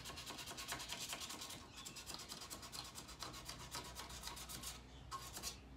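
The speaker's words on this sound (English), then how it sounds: "when you're finished each grit, go with the grain of the wood, just to hide the scratches." A wooden pen blank is sanded by hand along the grain, giving quiet, close rhythmic rubbing strokes in even back-and-forth passes with a short pause near the end.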